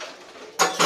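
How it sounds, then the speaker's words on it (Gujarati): Dishes and utensils being washed at home: a quiet stretch of running-water hiss, then two loud, close clatters of metal cutlery and pots knocking together near the end. "જમવાનું જમી લીધું ને અહીંયા મમ્મી વાસણ ધોવે છે."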